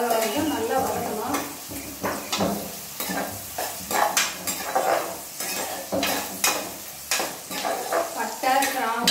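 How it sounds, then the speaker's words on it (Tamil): Onions sauté in a pan with cinnamon, cloves and bay leaves for chicken biryani, giving a steady sizzle and frying hiss broken by repeated scraping stirs of a spoon against the pan, close and fairly loud. "பட்டை, கிராம்பு, பிரியாணி இலை, பிரிஞ்சி இலைன்னு சொல்லுவாங்க, பிரியாணி இலை இதெல்லாம் போட்டு வெங்காயம் போட்டு நல்லா வதக்கணும்"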